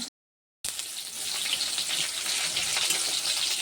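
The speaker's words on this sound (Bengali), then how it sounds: "একটা করে পটল ভেজে নেব" Pointed gourd (potol) pieces hit hot oil after a brief silence, then a bright, continuous close sizzle builds and holds steady.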